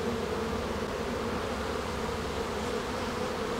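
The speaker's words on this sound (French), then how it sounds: "Ici, j'ai une abeille qui se promène avec du pollen vert." Honey bees buzz steadily at a hive, a dense, even drone that holds loud and close with no break.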